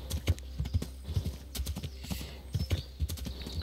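A horse's hooves clip-clop steadily on the ground in the medieval game Kingdom Come: Deliverance, a close, even walking rhythm with a soft hint of snorting and ambient wind.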